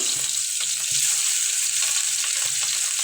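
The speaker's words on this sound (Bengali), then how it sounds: "দিয়ে দিতেছি তেলের মধ্যে ভাজার জন্য।" Rohu fish pieces go into hot oil in a pan, setting off a bright, crackling sizzle up close with quick bubbling pops and light spatter throughout.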